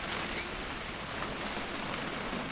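Rain falling in the video game What Remains of Edith Finch, a steady, dense broadband patter that continues evenly throughout, heard alone without talk.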